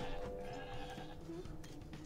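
A goat bleats in the Plants vs. Zombies Heroes card game: a short, wavering bleat, quiet and set against soft background game sound.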